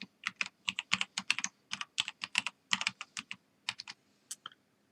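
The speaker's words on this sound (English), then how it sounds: "Now you type the password." Rapid keystrokes on a computer keyboard while a password is typed into an Ubuntu Server 20.04.2 login, a close, steady run of clicks in bursts with brief pauses and no talking.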